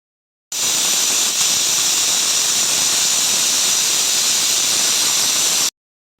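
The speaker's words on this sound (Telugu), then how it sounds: "స్టవ్ వెలిగించేసి ఒక 4 విజిల్స్ వచ్చేంత వరకు కుక్ చేశాను" A pressure cooker cooking dal on a stove lets out a loud, steady hissing steam whistle for about five seconds. The whistle starts abruptly and stops abruptly, with nothing else heard.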